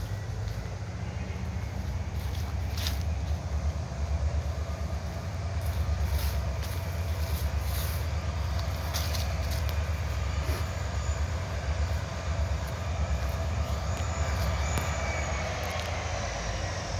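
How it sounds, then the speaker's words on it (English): Low, steady rumble of two yard locomotives pulling rail cars, with a droning hum and faint metallic rattles, rolling on continuously at a moderate distance. "Two yard engines pulling part of a consist here."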